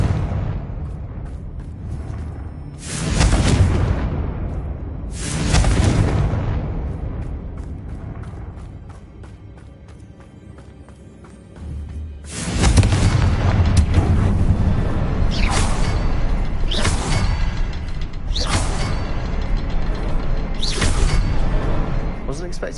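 Confringo spell blasts from the video game Hogwarts Legacy go off as a run of loud, close explosive bursts with whooshing tails, two early ones and then several in quick succession, over a steady low rumble.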